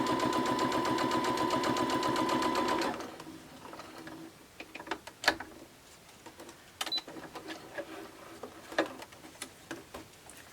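Sewing machine running a straight stitch on a fabric drink cozy, a fast, even rhythmic hum for about three seconds, then stops, leaving faint handling clicks and taps.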